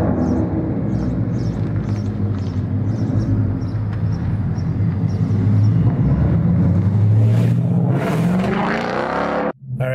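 A Ford Mustang S550 with a Flowmaster cat-back exhaust and Scavenger X-pipe rumbles at close range, a steady deep burble that swells as the engine revs up, then cuts off abruptly at the end.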